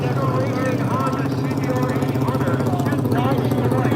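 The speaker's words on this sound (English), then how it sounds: "CBR 800 firing up for anyone tuning in" Honda CBR 800 motorcycle engine running at a drag-racing event, a loud, steady, rough mechanical drone with a fast pulsing beat and little change in level.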